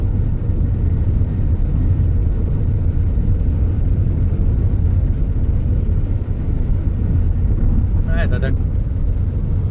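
A car cruises along an open, lightly trafficked Maharashtra highway, its steady low engine and road rumble filling the cabin throughout, with a brief spoken word near the end.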